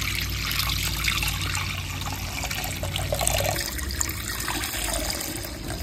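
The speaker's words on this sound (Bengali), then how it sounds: "এখন দুধটা একটু ঢেলে নিই।" Milk is poured into a pan for dudh shemai, the vermicelli pudding, making a steady close liquid trickle with a low continuous rumble underneath, and no voices present.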